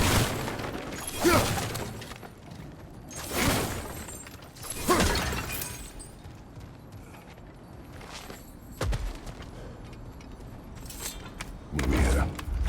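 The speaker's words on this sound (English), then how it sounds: "back to smashing through things for fun and profit" Objects get smashed and shatter in the God of War Ragnarök video game, with several loud crashing breaks spaced a few seconds apart and debris rattling between them.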